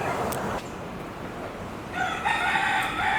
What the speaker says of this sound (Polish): I koguty pieją.